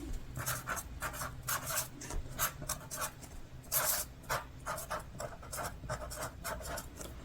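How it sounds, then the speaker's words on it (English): A pen scratches writing onto a small gift tag for a marble queen pothos plant, a soft close run of rhythmic strokes and scribbles with no talk. "So I'm going to write on here what it is"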